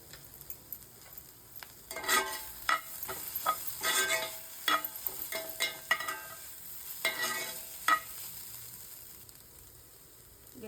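Beetroot stirred and fried in a pan with spice masala, giving a steady soft sizzle broken by repeated scraping and clacking strokes of a spatula against the pan, close and moderately loud, with no talking.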